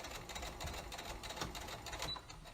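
A sewing machine with a needle for woven fabric runs steadily over a homemade fabric face mask, a close, continuous whirring chatter of stitching throughout.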